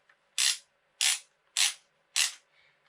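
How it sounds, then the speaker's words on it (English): Four evenly spaced bursts of ratcheting clicks from winding up a First Strike T15 paintball magazine by hand, close and crisp against silence, each turn lasting about a quarter second. "winding these things up"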